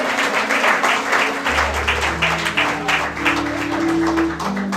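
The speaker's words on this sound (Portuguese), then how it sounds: "Uma salva de palmas ao Senhor." A church congregation gives a sustained round of dense applause, steady and moderately loud throughout, with organ or keyboard tones held underneath.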